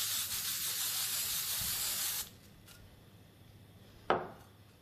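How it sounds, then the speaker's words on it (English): Hairspray is sprayed onto hair in one sustained hiss of about two seconds, close and fairly loud, then quiet handling follows with a brief sharp rustle near the end. "And I'm just going to lightly spray it"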